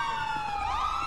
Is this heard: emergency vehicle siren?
yes